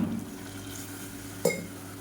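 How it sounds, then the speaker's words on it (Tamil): Water poured into a pot of white vegetable kurma curry as it cooks, a steady liquid wash with a brief clatter of a utensil near the end, close and fairly quiet. "இப்போ குருமாவுக்கு தேவையான தண்ணி சேர்த்துக்கலாம்"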